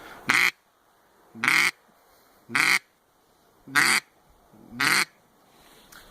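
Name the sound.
duck call imitating lonely hen call, series of quacks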